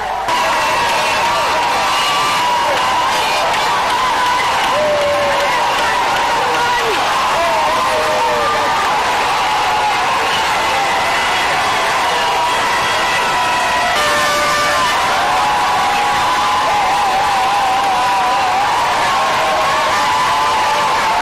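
A large crowd lines the Chikapa-Kanjadi roadway, cheering and whooping for the head of state's visit to the modern market, a steady dense roar with scattered whistles and shouts throughout.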